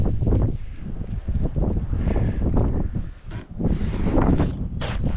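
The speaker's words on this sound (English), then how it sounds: "Listen to that wind, dude." Strong, gusty wind at an outdoor shooting range roars loudly into the microphone in rumbling, buffeting surges with brief lulls.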